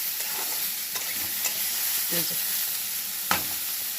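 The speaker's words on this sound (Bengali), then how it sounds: "এটা একটু আস্তে করে ভেজে নিই" Eggplant pieces fry slowly in a pan with a steady, moderate sizzle and a few soft stirring clicks and scrapes; no one speaks.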